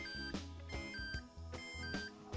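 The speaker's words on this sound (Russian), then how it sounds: "противный раздражающий сигнал он издает" An RC boat transmitter sounds its low-battery warning, a series of repeated electronic beeps in an irregular rhythm with faint background noise and no talk.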